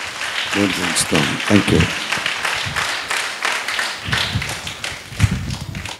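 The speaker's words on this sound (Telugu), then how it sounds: "గట్టిగా చప్పట్లు కొట్టి" Audience at a church feast celebration for Our Lady of Vailankanni claps loudly in a burst of applause, with a voice speaking briefly over the clapping.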